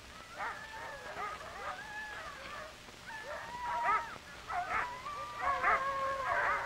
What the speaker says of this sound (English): Any delay sets them into a frenzy of barking.